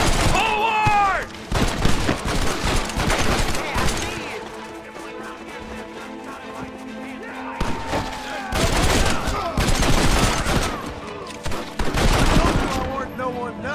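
Repeated clusters of gunshots in Red Dead Redemption, several loud volleys of cracks separated by quieter gaps, with shouting voices between the shots.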